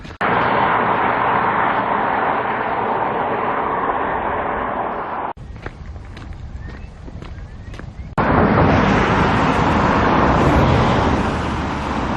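Road traffic rushes past beside a coastal path on the Northumberland coast near Bamburgh, a loud, continuous roar of passing vehicles with a short quieter stretch in the middle before the noise swells again.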